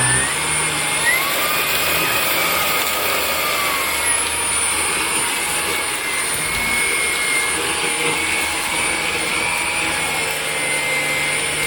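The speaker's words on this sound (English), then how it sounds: "And now I'm going to do the turbo mode." Hoover ONEPWR Blade MAX cordless stick vacuum on turbo mode, a loud, constant motor whine and rushing airflow with a slight shifting pitch, heard up close and uninterrupted by any voice.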